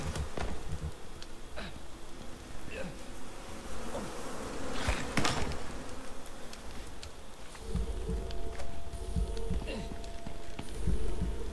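Bees swarming around the player in the survival video game Icarus, a dense, continuous insect buzz that stays loud throughout, with scattered clicks and thuds of game action layered over it.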